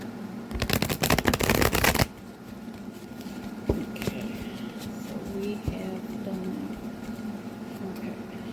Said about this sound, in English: Maybe I should try to shuffle it vertically.